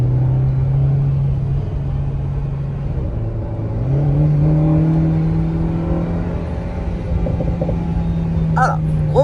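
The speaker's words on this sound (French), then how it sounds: "Voilà, gros freinage, bam, tout de suite. Et après accélérateur, le pied sur l'accélérateur" An Alpine A110 R on a race circuit: the steady engine drone dips under hard braking, then climbs again as the throttle opens. It is loud and continuous, heard from inside the car.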